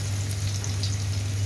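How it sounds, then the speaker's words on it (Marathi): Garlic sizzles in hot oil for tempering, a steady close hiss with fine crackles and a constant low hum underneath, no talking. "तेल तापलेलं आहे. लसूण टाकायचं फोडणीला."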